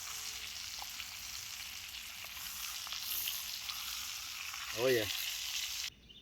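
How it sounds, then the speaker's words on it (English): Steak sears in butter over a Hunter Trapper style log cooking fire, a steady soft sizzle running throughout with a brief louder scrape near the end and a short spoken remark early on. "Let it sear for about 2 more minutes on that side in the butter."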